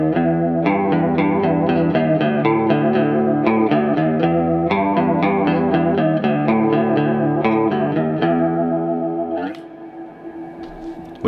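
An electric guitar with a chorus effect plays a riff, repeating the picked single-note pattern in a steady rhythm before it fades out with a brief scrape near the end.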